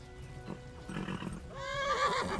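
A horse in a medieval game world whinnies clearly, a rising neigh over a low background rumble with faint hoof-like thuds just before it.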